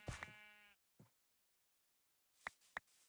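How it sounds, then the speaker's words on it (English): A sheep in a video game bleats in short, clear, wavering cries: one longer bleat, a brief second, then two quick bleats after a silent gap. The cries are close and stand alone against silence. "Hello, sheep."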